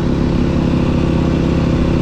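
A motocross bike's engine and exhaust rev hard and loud up close, a steady roaring drone with no voices over it.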